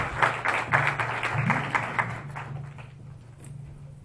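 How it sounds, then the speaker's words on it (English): An audience applauds a VR-for-enterprise panel at the AWE 2017 conference. The clapping is fairly quiet and scattered and fades away after a couple of seconds. "Let's give them an applause."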